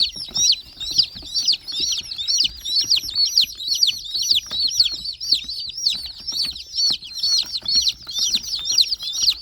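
Dakan breed chicks chirp constantly in a dense, overlapping chorus of high, sharp peeps, loud and close, with faint clucks and soft rustling beneath.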